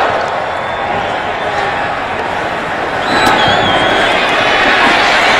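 Stadium crowd roaring after a West Virginia touchdown against Baylor in college football, a loud steady wash of cheering that swells partway through, with talk mixed underneath.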